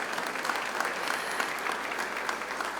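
Crowd at an outdoor Labor Day labor council celebration in Boston claps in a steady, dense burst of applause, moderately loud and continuous over a few seconds.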